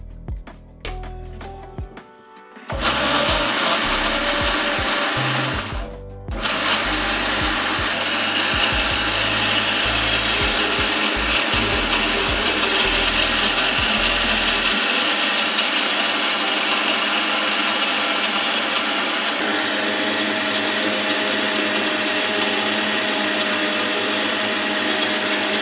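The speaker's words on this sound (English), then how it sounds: "and just put it into the blender" A kitchen blender whirs through fresh strawberries, starting after a brief pause with a loud, steady motor roar that briefly cuts out, then resumes and runs continuously, close and alone without talk.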